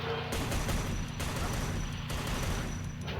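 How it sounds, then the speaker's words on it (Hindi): Rapid gunfire bursts from the Free Fire battle game rattle continuously at moderate volume, with brief gaps between volleys. "मुझे ऐसा लगा कि कहीं से तो गोली की आवाज़ आई है।"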